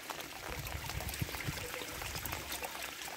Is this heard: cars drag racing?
no